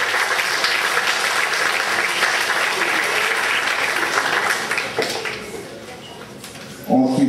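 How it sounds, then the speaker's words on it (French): An audience at an end-of-centre show in 2013 gives a loud burst of applause that gradually thins and fades, followed by a brief louder sound at the very end. "et on peut l'applaudir."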